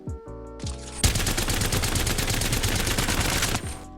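Havoc energy rifle firing full-auto in Apex Legends: a brief charge-up whine, then a dense, loud, unbroken stream of rapid shots lasting about two and a half seconds before cutting off with a fading tail.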